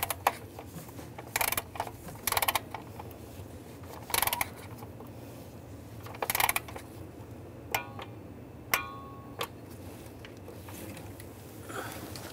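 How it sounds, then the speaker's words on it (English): Torque wrench tightening camshaft position sensor bolts to 89 inch pounds on a 2011-2018 Ram 1500 3.6L V6, with short clusters of close ratcheting clicks and one sharp click as the wrench releases over a low background hum. "Now we're going to torque these to 89 inch pounds."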